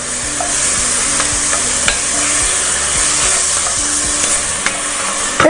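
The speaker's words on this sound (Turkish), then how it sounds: "Şöyle bakıyorum pirinçlerim kavruluyor" Rice sizzling as it is sautéed in a pan for an Ottoman-style dish, a steady loud frying hiss with occasional utensil scrapes and clicks from stirring.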